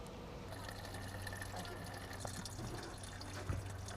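A reddish mixture of cannabis and alcohol is poured out, a faint, steady trickling wash under a constant low hum with a small splash near the end.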